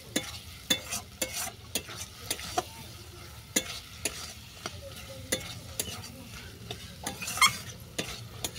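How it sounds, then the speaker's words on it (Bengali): Chicken masala being stirred into a crab curry with bitter gourd in a sizzling pan, the spoon scraping in repeated short strokes over a steady fry hiss, with no talking. "চিকেন মশলাটা ভালো করে মিশিয়ে নিচ্ছি।"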